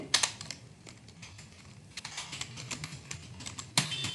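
Fast, irregular typing on a computer keyboard while entering text into an Excel spreadsheet, a close, crisp run of key clicks with occasional louder strokes and no talking.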